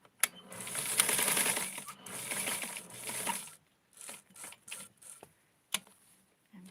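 A sewing machine runs a double line of stitching along a seam on small doll clothes: one steady whirring run of about three seconds, then several short, quick bursts of stitching with pauses between them.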